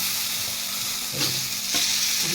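Chopped onions and long beans frying in a pan, a dense steady sizzle broken by two stirring scrapes close up.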